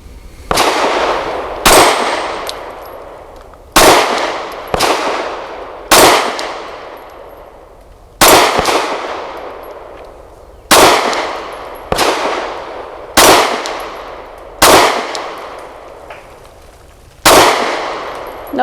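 Pistol shots from a Kimber R7 Mako fired with weak ammunition at a steel target, heard as about a dozen sharp reports spaced one to two seconds apart, each followed by a ringing clang that fades out, with no talk.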